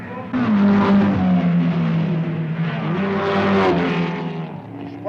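Renault 8 Gordini race cars roar close by in archive racing footage, one engine droning and shifting pitch as it passes, rising again toward the end.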